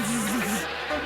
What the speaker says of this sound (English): you've all been busy little bees